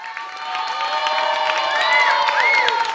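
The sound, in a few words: audience applause and cheering at a kids talent show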